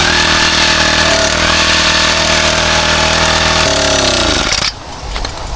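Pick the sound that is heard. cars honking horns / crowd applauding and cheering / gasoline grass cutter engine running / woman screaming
gasoline grass cutter engine running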